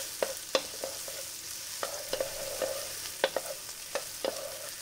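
Onions frying in a pan for a pasta bake with bolognese-style sauce, giving a soft steady sizzle broken by repeated sharp scraping taps of a utensil as they are stirred, close by with no talking.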